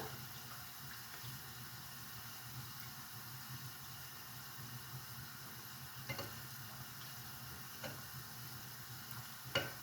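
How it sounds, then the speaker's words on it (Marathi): Masala and salt are stirred into a Konkan-style horse gram flour curry, called kulith pithla, in a pan. A faint bubbling simmer runs throughout, broken by a few soft scrapes of the spoon. No talk. "हा मसाला पण जरा असा छान त्याच्यात मिक्स करून घ्यायचा"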